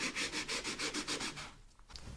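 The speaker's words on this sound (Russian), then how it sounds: "кусочек фанерки, здесь приклеена абразивная сеточка" Abrasive mesh glued to a plywood scrap sands an epoxy resin and driftwood ring, giving about ten rhythmic, evenly spaced rubbing strokes up close before stopping into quiet.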